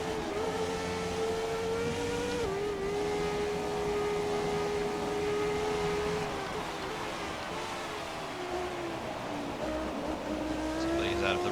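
Race car engine in F1 2017, held at a steady high drone whose pitch dips and climbs through gear changes and cornering, with faint tire scrub beneath; a voice talks over it.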